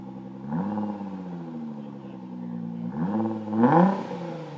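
Close up, a 2017 Nissan GT-R fitted with an ETS Y-pipe exhaust idles with a low, steady drone, then revs twice in quick swells, the second blip climbing higher and louder.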